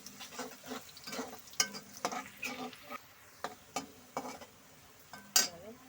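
Onion and garlic frying in a pan, a soft sizzle under repeated scraping and stirring strokes of a utensil against the pan, irregular and close, with no speech.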